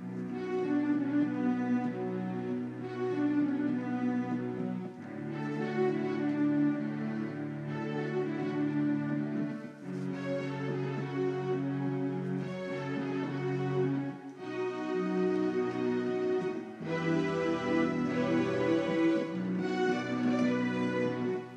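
Mendelssohn's Hebrides (Fingal's Cave) overture: full orchestral music plays continuously, strings and winds swelling through a flowing, lyrical phrase at steady loudness, with no voices.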